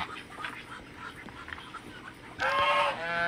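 Duck sitting in its nest in a small hut on a farm, giving one short nasal quack near the end over faint background noise.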